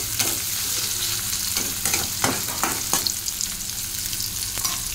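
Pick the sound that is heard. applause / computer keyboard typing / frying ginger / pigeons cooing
frying ginger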